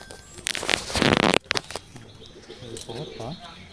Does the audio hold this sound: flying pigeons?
yes